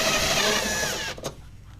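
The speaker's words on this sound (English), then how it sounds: "Next thing we're going to do is remove this plastic piece here with a 1/4 inch socket." A 1/4 inch socket driven by a power tool removes a plastic piece from a Maytag, Whirlpool or Kenmore washing machine during a transmission replacement: a close, steady whirring that runs about a second before it stops abruptly.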